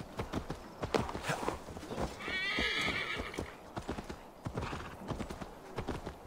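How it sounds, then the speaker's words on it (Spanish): In the video game Assassin's Creed Valhalla, a horse gallops with loud, rapid clip-clopping hooves close by, and a whinnying neigh rises partway through. "Vamos a coger el caballo, venga."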